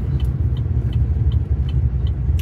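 Chevy SS V8 fitted with a Rick Crawford Racing cam idles with a mild, steady lope, a close, loud low rumble that rocks in a gentle, regular rhythm, with no talking.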